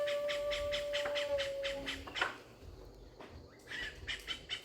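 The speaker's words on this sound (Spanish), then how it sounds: "el canto de las aves y el sonido de los insectos bochincheros" In the Ecuadorian Amazon jungle, rhythmic chirping calls of birds and insects repeat steadily, joined by a thin whistle-like tone and other scattered bird calls, all fairly faint and distant.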